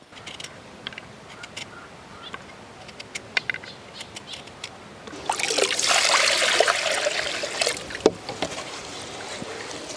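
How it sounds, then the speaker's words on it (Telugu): Rice being washed in a pot of water by hand in a home kitchen: scattered drips and small splashes, then a louder, sustained swishing and sloshing of grains through water, close by and with no talking. "ఈ రైస్ని అయితే ఒకటికి రెండు సార్లు శుభ్రంగా కడుక్కోవాలండి"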